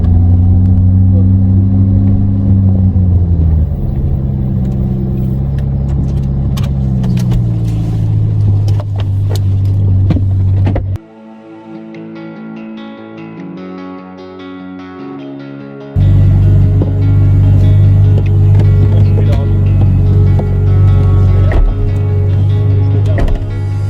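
Ferrari 458 or 488 Pista engine heard from inside the car on a racing circuit, a loud sustained drone rising and falling with acceleration and gear changes, then a brief drop in level before the engine roars back.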